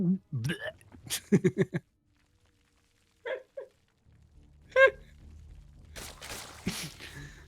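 A voice mimics a cartoon snake burping, with short gulping, hiccup-like vocal bursts between bits of speech and brief silences.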